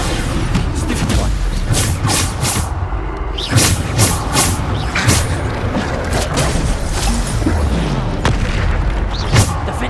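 Spell explosions in the Hogwarts Legacy game on PS5: dense, loud booms and crashing blasts in rapid succession, layered continuously with a few sharper impacts, no clear talk.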